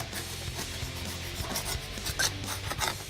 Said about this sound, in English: You want to make sure you scrape any remaining gasket material off here.